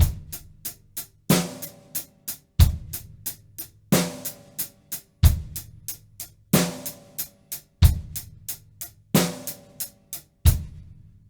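Drum set playing a basic beat, bass drum and snare placed on a steady pulse with quick lighter strokes in between, repeating evenly in a close, dry room with no talking.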